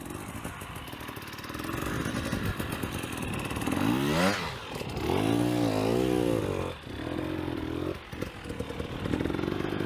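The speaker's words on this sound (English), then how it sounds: "get a good line, turn the bike again and ride out the other side" An off-road motorcycle climbs a steep hillside during a hard enduro race, its engine revving and bogging in bursts, rising and falling in pitch as the rider works the throttle up the slope.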